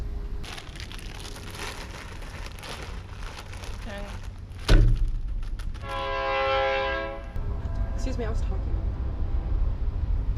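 A train rumbles past with rolling noise and a long, loud horn blast in the middle, while a person talks over the passing train.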